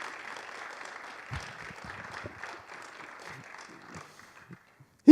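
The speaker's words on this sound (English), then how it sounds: "A round of applause for Steve Chisnell, everybody." Scattered clapping from a modest audience at a leadership talk, thin and fading out over a few seconds until near silence, ending with a sudden loud knock.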